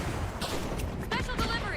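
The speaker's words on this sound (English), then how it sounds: "Tossing a frag" Bursts of gunfire and a frag grenade explosion crack and boom in The Finals shooter game, several sharp hits in quick succession, mixed with bright whistling effects and a voice speaking.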